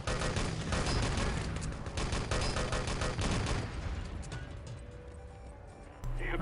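Rapid gunfire and grenade blasts in a competitive Enemy Territory match, dense loud volleys of shots for several seconds that thin out toward the end, with no voices over them.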